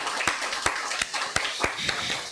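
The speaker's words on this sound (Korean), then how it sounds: "우리 큰 박수로 한번 환영해 주시길 바랍니다." A church congregation claps to welcome a guest during a Sunday worship service, with sharp, scattered hand claps arriving in an uneven rhythm across a roomy hall and no talking over them.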